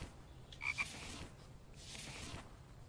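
A frog croaks in a video game, two or three short close croaks followed by a fainter later call over a quiet ambient background, with no speech.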